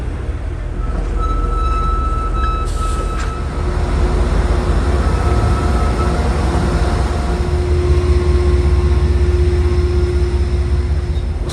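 An Amtrak locomotive pushes the private railcar Francis L. Suter alongside Amtrak equipment, giving a loud, steady, close rumble with a sustained mechanical drone and faint tonal whines throughout.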